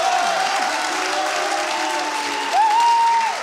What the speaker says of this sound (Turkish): bir alkış daha gönderelim